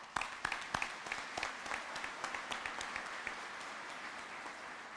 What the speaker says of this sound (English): give your supporters a round of applause as well